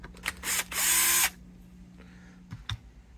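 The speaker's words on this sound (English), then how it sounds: "Let's get those screws out, and we'll see what that preamp actually is." Brief high whir of a drill backing screws out of a 1988 Jackson guitar to reach the preamp, followed by a few light clicks and taps and a low steady hum.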